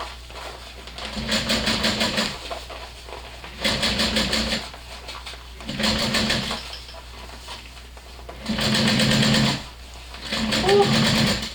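A sewing machine stitches a fabric panel for a Rosie garment during final assembly, running in several steady whirring bursts with brief pauses between them, close and moderately loud, with no one talking.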